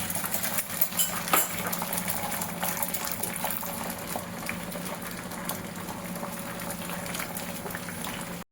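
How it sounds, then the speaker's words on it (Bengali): Beaten egg with salt and chili hitting an oiled hot griddle, a loud, even, continuous sizzle and crackle that holds steady throughout without talking. "এবার ডিমটা যে ফেটিয়েছিলাম নুন লঙ্কা দিয়ে ওটা তাওয়ায় ঢেলে দিলাম।"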